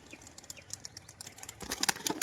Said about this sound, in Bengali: একটা পায়রা দেখুন বাজি মারছে